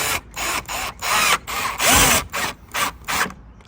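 A ratchet cranking down the mounting nuts on a BMW F30/F32 GTS taillight, a loud, close run of repeated clicking strokes in steady bursts with brief gaps between them.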